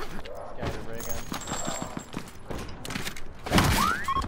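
Ray gun blasts in a Call of Duty Black Ops 4 Alcatraz match, a run of rapid sharp shots and zaps with a rising electronic whine near the end, under a voice.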